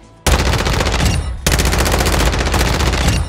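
Rapid automatic gunfire from a weapon fitted with a spiral muzzle in Warzone 2, two loud, dense sustained bursts separated by a brief gap, close and dominant.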